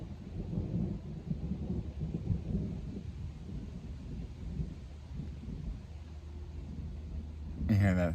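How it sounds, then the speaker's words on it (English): Thunder rumbling low and distant at a Smoky Mountains campground in North Carolina, a long soft roll that rises and fades, with speech and a brief louder noise at the end. "You hear that thunder?"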